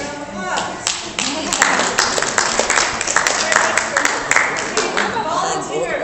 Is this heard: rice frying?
no